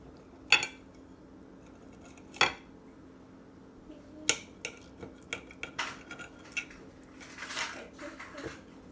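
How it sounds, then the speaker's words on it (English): Knife cutting baked-salmon fillets on a plate, a series of sharp scattered clinks and scrapes of metal on ceramic, faint and close, with no talk. "Now I am cutting on a plate"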